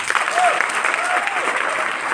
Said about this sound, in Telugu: నిలబడి చప్పట్లు కొడతారా?